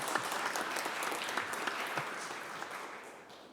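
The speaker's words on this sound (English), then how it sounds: "yeah, you can applaud" Fairly faint, steady clapping from an audience at a Francophonie event for the Rhode Island chapter of French teachers, dense applause that tapers off slightly toward the end.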